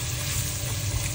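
Ginger aromatics in a hot pan make a brief, loud, even sizzle. The hiss holds steady from start to finish with no voices.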